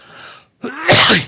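A single loud, close sneeze bursts out after a brief quiet pause, preceded by a short exclamation.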